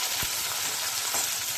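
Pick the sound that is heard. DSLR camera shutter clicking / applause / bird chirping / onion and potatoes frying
onion and potatoes frying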